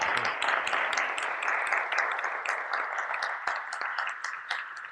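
An audience applauds in a dense, sustained wash of many hands clapping, fairly loud and even throughout, tapering slightly at the close.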